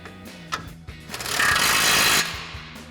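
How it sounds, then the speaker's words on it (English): An impact wrench with a 21 mm socket tightens a tie rod nut on a Ford F-150 during a front leveling kit install, giving a loud sustained buzzing burst of about a second after a few short mechanical clicks. "we'll tighten that back down with our 21 mil socket on our impact"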